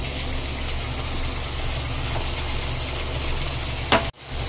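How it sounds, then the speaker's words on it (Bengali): Ginger, cumin and garlic paste masala fries in a pan with a steady, even sizzle and hiss, ending in a brief clatter before the sound cuts out abruptly. "এখন এই মশলাটাকে ভালো করে কষিয়ে নেবে।"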